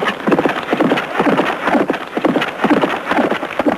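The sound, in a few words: horse galloping during yabusame horseback archery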